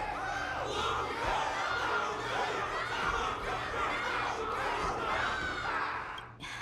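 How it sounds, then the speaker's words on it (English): A crowd cheers and shouts in the Honkai: Star Rail video game during a battle. Many voices roar together in a loud, continuous swell that fades slightly at the end. "Can't you hear? Everyone's cheering for you, Luca!"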